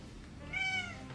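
A pet cat gives a single short meow, fairly faint and alone in a quiet room.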